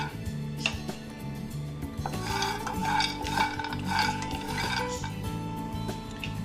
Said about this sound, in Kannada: ಈಗ ನೆಕ್ಸ್ಟು ಬಾದಾಮಿ ತಗೋತಾ ಇದ್ದೀನಿ ಇದನ್ನು ಅಷ್ಟೇ ಸ್ವಲ್ಪ ಇದರಲ್ಲಿ ಹಸಿ ವಾಸನೆ ಎಲ್ಲ ಹೋಗೋವರೆಗೂ ಚೆನ್ನಾಗಿ ಹುರ್ಕೋಬೇಕಾಗತ್ತೆ